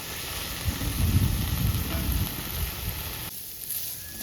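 Mint leaves frying in a pan over a medium flame, giving a steady, close sizzle that stays loud and even throughout, easing slightly near the end.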